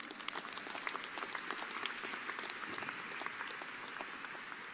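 At a civil and environmental engineering graduation celebration, a room of people claps steadily but faintly, a continuous spread of hand claps heard from a distance for several seconds.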